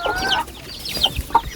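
Chickens cluck close by in a rural yard where they live alongside people, with a run of short, uneven clucks and squawks and no voices.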